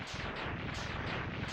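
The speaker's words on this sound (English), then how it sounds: "And a big fiery explosion, which doesn't make much sense considering he's underwater, how he's bursting into flames" In the Mega Man X2 video game, a defeated boss blows up in a big fiery explosion, heard as a dense, loud, rumbling burst of repeated booms that stays close and steady for over a second.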